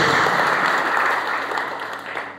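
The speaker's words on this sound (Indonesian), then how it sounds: "Tepuk tangan yang terbaik buat Tuhan Yesus Kristus." A church congregation applauds during a sermon, a loud, dense burst of many hands clapping together that eases off slightly toward the end.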